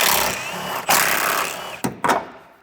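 Fluid is sucked out of a van's power steering reservoir in a loud, close, rushing hiss that cuts off abruptly a few times before trailing away.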